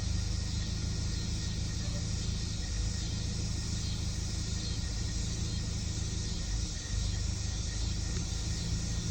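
A 2018 Kia Sportage with a 2.0 turbo engine idles unevenly with a nearly stalling, low steady rumble that wavers slightly. Close and fairly quiet, with no voices.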